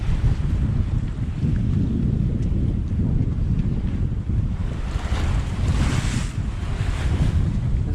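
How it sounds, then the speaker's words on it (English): Rough sea waves surge and crash around a sailboat while strong wind buffets the microphone, a loud, continuous roar with swelling washes of surf. "The sea has picked up quite a bit."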